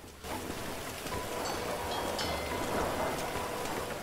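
In GTA V, an entire building burns, a dense crackling, hissing roar of flames that starts abruptly and holds steady for a few seconds without speech.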